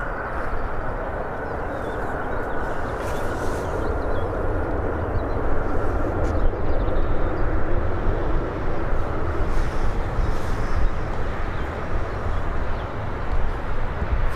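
An airplane landing at Birmingham Airport gives a steady, broad roar that holds fairly loud and even throughout, with no voices.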